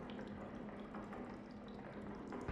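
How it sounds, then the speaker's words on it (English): Water in a canal inside a horror video game: a steady, continuous wash of flowing and trickling water with a low droning hum beneath, filling the whole stretch with no voices. "Canal. I hear water."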